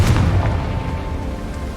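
Confringo spell blast in Hogwarts Legacy: a loud, low booming burst at the start that rolls off into a fading rumble over the next second or so.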